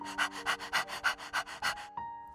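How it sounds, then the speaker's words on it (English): A cartoon puppy pants in quick rhythmic bursts, about eight sharp breaths close up, then gives a short sniff at the end, with no talking over it. "Out of the fog runs Pup, the dog."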